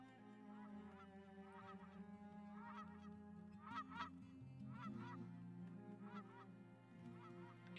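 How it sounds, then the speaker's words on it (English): Canada geese in the video game Farthest honk repeatedly as they fly past, a scattered chorus of nasal calls over a low, steady game soundtrack. "Canadian geese going by."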